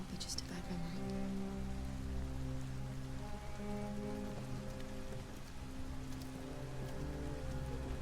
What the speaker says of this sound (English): Dude, why is it always fucking raining?